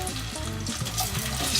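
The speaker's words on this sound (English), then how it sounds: "So in this stage of cooking, the onion is frying already." Onion frying in soybean oil in a pot, a loud, steady close-up sizzle with crackling and stirring scrapes throughout, no talk.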